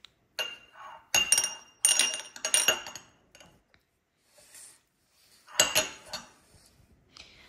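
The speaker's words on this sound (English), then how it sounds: "I'm gonna grab a spoon here for some shallots" Metal spoon clinking against glass and dishes while scooping shallots for a grilled pork belly marinade, several sharp close clinks in short clusters with quiet gaps between.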